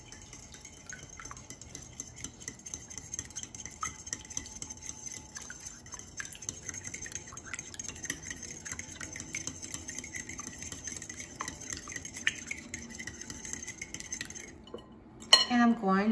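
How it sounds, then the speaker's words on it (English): Spoon working cookie dough with vegetable oil in a bowl, a steady scraping and light clinking that carries on for the whole stretch, close and soft, ending in a brief louder clatter. "now I'm going to mix it together until combined"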